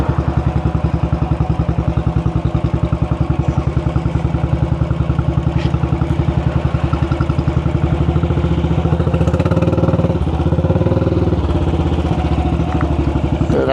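A motorcycle engine runs steadily at a low, even pulse while riding through the narrow one-way and two-way streets of Cork City, loud and close throughout, with a slight swell of rumble near the end.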